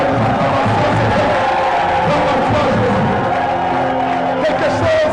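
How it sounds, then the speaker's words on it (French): A church congregation in full voice, cheering and shouting for joy, a dense, loud crowd roar with whoops and cries that never lets up. "On nous pousse les cris de joie et de l'acclamation, Seigneur."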